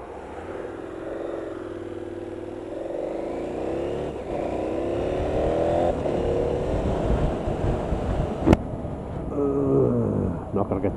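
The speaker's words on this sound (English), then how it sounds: "then you start the bike up" A 2018 KTM 1290 Super Adventure S motorcycle engine runs and revs up and down, loud and close, with a sharp click partway through and a rising, wavering drone that builds near the end.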